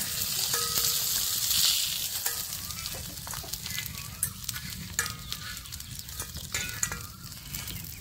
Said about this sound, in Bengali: মাছ ভাজা হয়েছে, এখন আমি নামাই নিব।